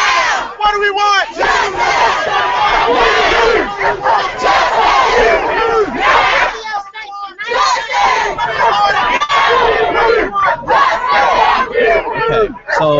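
A Ferguson protest crowd shouts loud call-and-response chants in rhythmic bursts separated by brief pauses, the massed voices close and forceful over a background of crowd babble.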